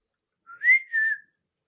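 A person whistles two short notes in a row to imitate a sound heard in a therapy room, clear and close with nothing else around.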